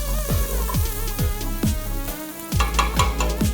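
Garlic and ginger sizzle and fry in a pan while chicken pilau is cooked, a steady close crackle broken by repeated stirring scrapes and clinks.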